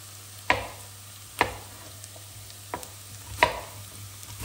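Onion frying in a pot for potato goulash with sausage, a steady soft sizzle broken by several sharp scrapes and knocks of a stirring spoon at irregular intervals, close and alone.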